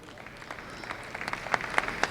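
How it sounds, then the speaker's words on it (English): Scattered clapping from a small crowd at a dairy show ring, starting thin and building into a few louder bursts of applause over a couple of seconds. "why don't we give these few junior or intermediates out here in the ring a huge round of applause"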